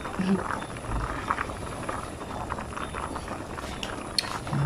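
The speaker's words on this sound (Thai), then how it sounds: "เดือดปุดๆ" Isan-style fresh bamboo shoot curry boiling in a pot gives a soft, continuous bubbling and simmering hiss at moderate distance, with a few faint clinks of utensils.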